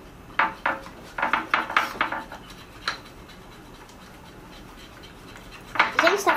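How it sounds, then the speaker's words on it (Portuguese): Fluffy pale-yellow slime is stirred quickly in a bowl, giving bursts of wet scraping and clicking strokes in rapid clusters, a lone stroke after a pause, then another quick flurry near the end. "Eu tô misturando assim rápido, gente, pra ele dar o ponto da corzinha mais rápido."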